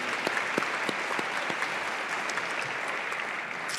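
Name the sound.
audience applause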